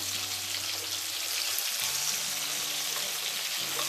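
Sardines frying in a dry pan with no fat give a steady, close sizzle with faint crackles throughout, with no one speaking.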